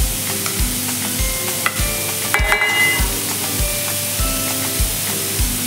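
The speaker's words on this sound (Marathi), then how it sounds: "आता आपला कांदा परतून होत आहे इकडे" Onion sautéing in a pan, a steady close sizzle with repeated soft rhythmic thumps of stirring and a few metallic clinks, no talk.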